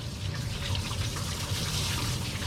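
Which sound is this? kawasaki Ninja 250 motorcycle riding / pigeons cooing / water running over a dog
water running over a dog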